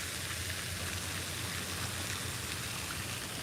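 Light rain falls steadily on open water during a dark early-morning bass fishing outing, a soft continuous hiss of drops close around with no voices.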